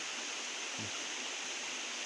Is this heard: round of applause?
no